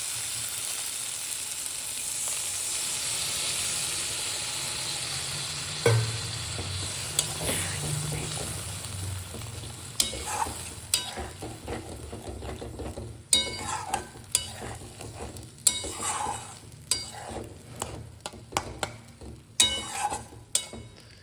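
Water poured into egg kosha curry frying with oil and spices, a steady sizzling hiss overlaid with repeated sharp scraping and clinking of a spatula against the pan, growing busier and more percussive as stirring continues.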